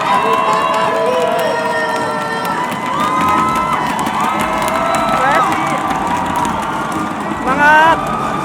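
A studio audience at a game show cheers and shouts in a loud, continuous roar, with whoops, excited voices and a few claps throughout.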